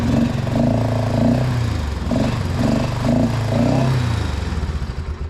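A four-wheeler's small engine idles roughly, steadily and a little low, with a pulsing, slightly uneven chug that rises and dips a few times; no talking.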